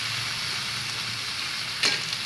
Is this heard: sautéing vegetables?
yes